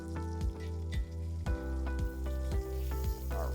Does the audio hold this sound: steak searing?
yes